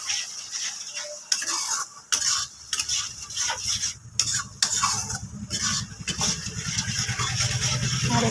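Chilli paneer with ground black pepper stirred in a pan, a spoon scraping and clinking against the metal in an uneven rhythm over a faint sizzle, close and moderately loud, with no talking.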